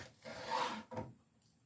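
A knife slices raw chicken into quarter-inch strips, two short quiet drawn cuts heard close on a board, with no voices.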